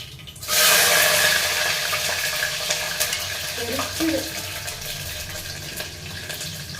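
Peeled, washed garlic drops into hot oil in a pan and erupts into a loud, close sizzle that then settles into steady frying, with a few soft stirring knocks.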